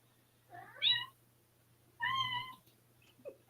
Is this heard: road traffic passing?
no